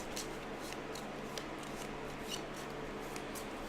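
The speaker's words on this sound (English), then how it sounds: "Shuffle up those cards." Soft, steady shuffling of playing cards for the board game Gaia Project close by, with a dense papery riffle and scattered sharper snaps throughout, and no talking.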